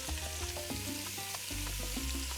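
Beef pieces for carne guisada searing in a hot pan on medium-high heat, a loud, continuous close sizzle and crackle with some stirring and shifting of the meat, no voices.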